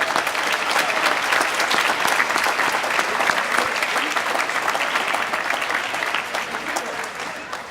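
Audience at an award ceremony applauding, a dense, loud, sustained round of clapping from a large crowd that tapers off slightly toward the end.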